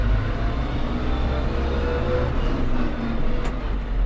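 A Kubota GL-368 Japanese mini tractor's engine revs as the throttle is opened, a steady, loud low-pitched drone running continuously throughout with no talk over it.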